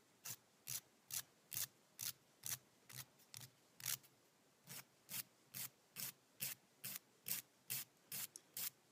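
Nail file filing away excess fingernail in quick, evenly spaced rasping strokes, about two per second, close but faint, with no talk.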